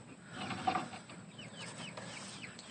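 Chickens clucking softly in a coop in the morning, with faint scattered clucks over low background noise, no talk.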